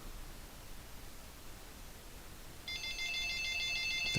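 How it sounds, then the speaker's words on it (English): A telephone starts ringing partway through, an electronic ring that begins abruptly over a quiet room background and keeps going to the end. "Oh shoot! There's the phone."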